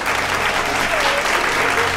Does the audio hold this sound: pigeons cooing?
no